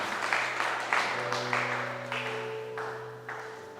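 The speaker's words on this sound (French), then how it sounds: "Est-ce que tu peux acclamer le Seigneur?" A church congregation claps in a steady rhythm during worship, each burst of hand claps landing about every half second over sustained keyboard or organ tones, moderately loud and close.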